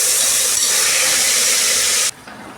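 Onion, tomato, green chili, ginger and coriander leaves sizzling in a pan for egg biryani, a loud, steady broadband fry hiss that cuts out abruptly near the end to a quieter background.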